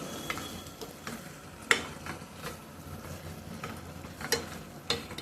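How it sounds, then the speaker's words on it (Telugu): A spoon stirs tomato pickle mixture in oil in a pan, with soft sizzling underneath and a few sharp scraping clicks against the metal at irregular moments. "అంతా ఒకసారి మంచిగా కలబెట్టుకుంటాము."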